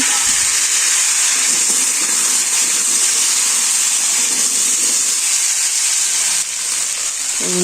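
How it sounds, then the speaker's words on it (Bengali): Potatoes fry in hot oil in a simple village kitchen, making a loud, steady sizzle and hiss that runs without a break, with faint clatter underneath and no talking. "মাছটি উঠে নিছি এবারে আলু দিয়ে ভালো করে ভেজে নেব"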